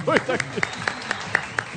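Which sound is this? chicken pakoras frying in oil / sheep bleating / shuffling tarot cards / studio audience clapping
studio audience clapping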